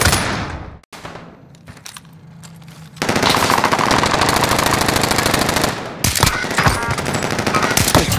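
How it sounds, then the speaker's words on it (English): Automatic gunfire in the Call of Duty Warzone Plunder video game: sparse shots over a quiet stretch, then loud, dense, continuous bursts of rapid fire for the last five seconds, with a brief gap near the end. "The bastards are shooting at me."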